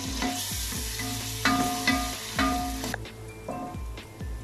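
Ginger garlic paste fries with onions in hot oil for a chicken biryani, a steady soft sizzle broken by the scrape and clink of a spoon stirring the pan several times, close and fairly quiet.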